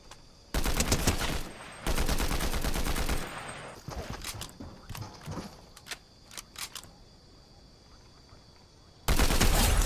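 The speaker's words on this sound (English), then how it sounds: "Is this a combat assault rifle?" Combat assault rifle fire in a Fortnite-style shooter game, with loud bursts of automatic shots in two long volleys, then scattered single shots and quieter game sounds, and a final loud burst at the end.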